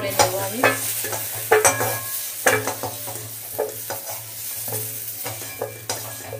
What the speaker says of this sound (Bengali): আলুগুলো একটু হালকা করে ভেজে নিয়েছি,